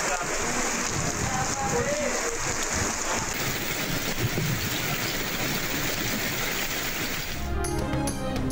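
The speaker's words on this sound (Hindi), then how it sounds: "टंडो मोहम्मद खान में भी बारिश।" Steady heavy rain pours down during a storm in Sindh, a dense continuous hiss of drops on surfaces close by, with a news voice over it before a brief shift near the end.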